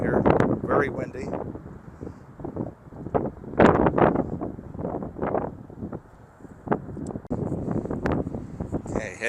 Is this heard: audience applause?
no